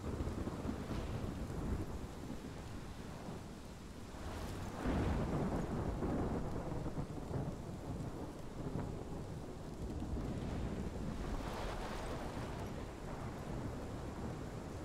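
Thunderstorm in the video game Life Is Strange: heavy steady rain with low rolling thunder swelling several times, a dense continuous roar at moderate level with no voices.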